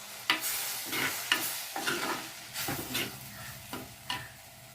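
Chilli and turmeric powder sizzle in oil in a pan for brinjal gravy, stirred in a steady rhythm of scraping strokes, about one per second, soft and close.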